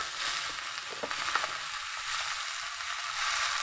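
Soaked chowmein noodles sizzle steadily in a hot pan, with a few stirring scrapes and rustles close by.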